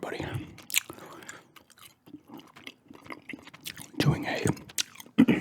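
Gum chewed close to the microphone, with wet smacks and crackles coming in irregular bursts, loudest near the end, over soft breathy mouth noise.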